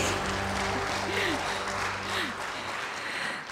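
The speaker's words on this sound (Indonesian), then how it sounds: "Kita boleh berikan tepuk tangan sekali lagi." Audience applause at an Indonesian transport infrastructure financing launch ceremony, a dense continuous round of clapping from a crowd, filling the room at steady loudness, with faint tonal background hum underneath.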